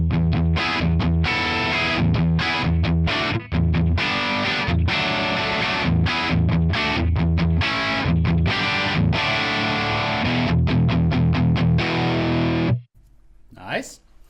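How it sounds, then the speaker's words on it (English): A Kypro super strat electric guitar plays crunchy, distorted chords and riffs through a Tonex amp model on a crunch setting with a noise gate and no reverb, loud and continuous until it stops abruptly near the end. "Put in the noise gate, and without any reverb, just the crunch setting."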